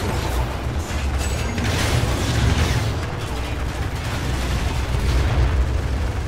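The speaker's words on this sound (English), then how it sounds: "Explosions and chaos" Rumbling booms and crackling blasts roll on continuously, dense and loud, a barrage of explosions in the game Renegade Ops with no speech.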